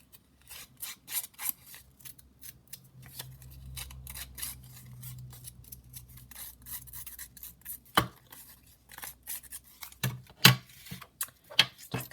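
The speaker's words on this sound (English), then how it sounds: "we'll just rough them up a little bit around the edge with the scissors" Scissors scrape and rough up the edges of paper for a handmade junk journal, producing repeated close, dry rasping snips and scratches at an uneven pace, with a few sharper clicks.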